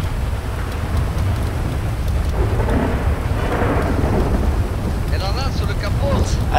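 Thunder rumbles through steady heavy rain during a storm in the video game GTA. A voice speaks faintly under the constant downpour.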